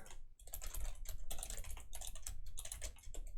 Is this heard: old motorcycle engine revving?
no